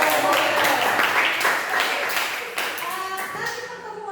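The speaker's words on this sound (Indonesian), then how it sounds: "Sekali lagi boleh tepuk tangan?" A classroom full of high school students clapping together, dense and steady for a few seconds, with young voices mixed in as the applause tapers.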